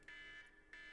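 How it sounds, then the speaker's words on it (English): An alarm buzzer sounds in short, faint electronic bursts, two pulses separated by a brief gap, with no voices over it. "You hear that? That's our alarm."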